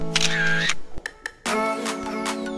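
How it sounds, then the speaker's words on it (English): Camera shutter sound effect: a sequence of sharp mechanical clicks and whirring winds, loud and close, with several rapid shutter snaps and two longer motor-drive buzzes. "I have sound effect of camera shutter sound."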